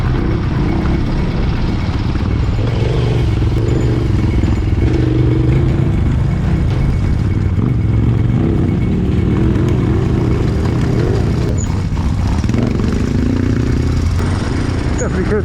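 An enduro motorcycle on a slippery trail straight runs loud and close, its engine roaring and rising in waves as the throttle opens, with clattering over the ground throughout and no pause in the noise.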